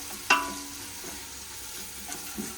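Onions sautéing for Ambur chicken biryani give a steady faint sizzle, with one sharp utensil scrape near the start and a few softer stirring knocks later.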